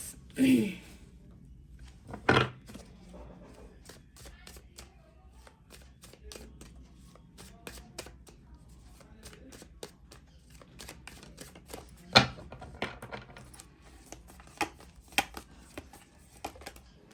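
Tarot cards are shuffled and drawn at close range, soft riffling and sharp taps and flicks scattered through a quiet room, with a voice speaking faintly now and then.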